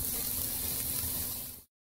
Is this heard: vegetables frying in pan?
yes